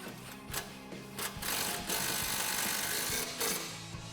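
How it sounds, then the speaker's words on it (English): Power impact gun tightening a nut on 2005-2014 Mustang GT rear suspension, a close continuous rattling hammering with a few brief surges, filling the whole clip. "then we can grab our gun and tighten that down"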